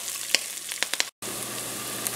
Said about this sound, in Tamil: அதில் வெங்காயம், பச்சை மிளகாய், கருவேப்பிலை அதை சேர்த்து வதக்கிக்கணும்.